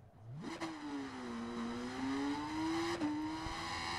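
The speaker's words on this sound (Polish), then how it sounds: "Jedziemy Yamahą R7 w wersji Endurance" A Yamaha R7 Endurance racing motorcycle in the video game RIDE 5 revs up sharply, then holds a steady high-pitched engine whine with a brief dip as it shifts gears, loud and close.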